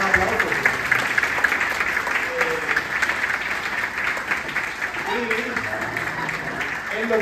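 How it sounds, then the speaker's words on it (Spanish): An audience at an academic presentation on the Ukrainian conflict applauds warmly, steady crowd clapping throughout with some murmured voices beneath. "Un gran aplauso."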